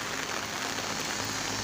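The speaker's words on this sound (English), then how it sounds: "The rain is so much right now" Steady heavy rain falls in a forest area, a dense continuous hiss of drops striking surfaces close by that holds an even loudness throughout with no voices.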